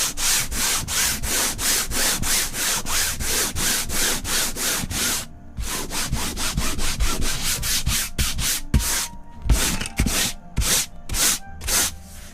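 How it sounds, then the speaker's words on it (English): Rapid, steady back-and-forth strokes of 100-grit sandpaper on wood, rasping continuously with a short pause midway, then resuming in choppier bursts. "a real quick gentle sanding with a 100 grit sandpaper"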